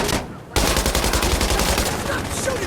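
Rapid gunfire in the tactical shooter Insurgency: Sandstorm, a loud sustained automatic burst that breaks in suddenly after a brief lull and keeps rattling to the end, close and dense.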